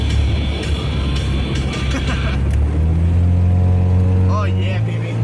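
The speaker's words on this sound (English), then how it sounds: "Rev that engine." A motor revs on a boat, a strong low drone that climbs in pitch in the second half, with people talking and shouting over it.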